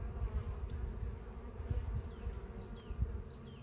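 Honeybees in a small nuc hive buzz in a dense, close, continuous hum, with occasional individual bees flitting past near the open frames and no speech.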